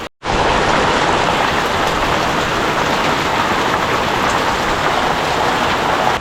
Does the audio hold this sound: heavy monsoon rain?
yes